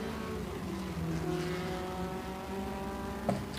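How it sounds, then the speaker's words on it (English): A classic Porsche climbing the Simola hill climb course: a steady, sustained engine drone at moderate distance with a shifting pitch, holding for several seconds with a small knock near the end. "Beautiful Porsche going up the hill as well."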